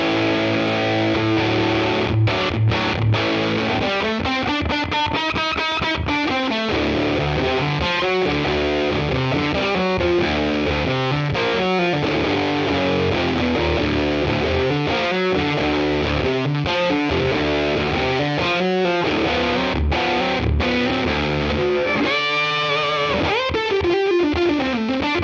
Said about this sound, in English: The first one is the Wolf Fuzz by Black Cat Device from Italy.